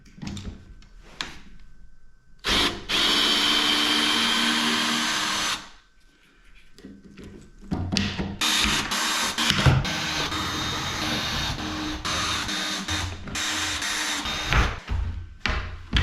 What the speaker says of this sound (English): I'm gonna get these screws out of here, take this piece off